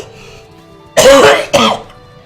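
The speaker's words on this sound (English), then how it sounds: "Please excuse my cough." Two loud, close coughs in quick succession, the first longer and harsher, the second shorter, after a quiet stretch with no talk.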